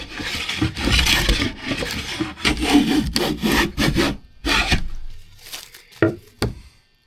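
A Sargent Shaw patented hand plane takes fine shavings from wood in a series of brisk, close strokes, each a rasping swish, with short pauses between passes and no talking.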